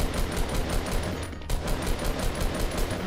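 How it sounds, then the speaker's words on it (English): Rapid automatic gunfire in Fortnite Battle Royale, a dense stream of bursts with one brief pause midway, loud and close with no talking over it. "Yeah, I'm shooting this down."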